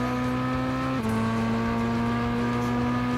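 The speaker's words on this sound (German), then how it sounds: "Trotz Traktionskontrolle drehen trotzdem die Räder durch." Race car wheels spinning despite traction control in Gran Turismo 6, a Mercedes SLS on a wet Spa circuit, giving a loud continuous engine drone with a steady pitch that dips once partway through, no voices.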